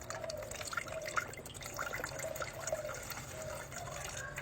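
Sugar water pours into a pot for making orange chocolate jelly, a quiet trickling, bubbling flow that stays even and close.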